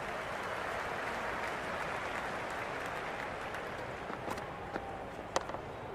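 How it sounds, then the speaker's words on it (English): Steady crowd roar and applause from a cricket stadium in the video game Cricket 26, a dense continuous wash throughout with a few sharper claps and thumps near the end. "There's an almost tangible fervour throughout the crowd at the moment."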